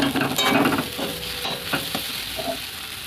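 Mashed potato filling for stuffed pointed-gourd chops is stirred and dry-fried in a pan, with a steady sizzle under repeated scraping strokes of the spoon, close and fairly loud, no voices.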